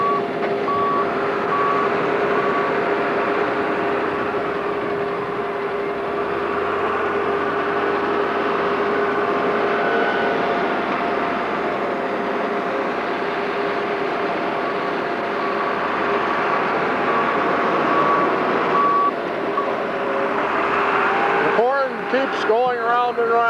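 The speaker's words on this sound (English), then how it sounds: "The augers grab it, blend it in with the hay." A feed mixer truck's augers churn ground corn into hay, giving a steady mechanical hum with whining tonal drones that runs throughout, ending in a burst of squeaks and rattles.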